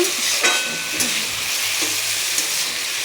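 Onions fry in a pan for chowmein, giving a loud, close, continuous sizzle with brief scraping stirs of a spatula breaking through now and then.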